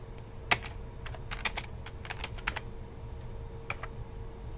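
Someone types on a computer keyboard while entering text into an Excel spreadsheet, producing a sparse, irregular run of crisp clicks with one sharper keystroke near the start, close and clear over a quiet room hum.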